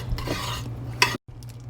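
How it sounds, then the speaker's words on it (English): A utensil scrapes and swirls through a thick mixture of cream of chicken soup and water in a crock pot, with a clink against the side, up close. "Stir that together."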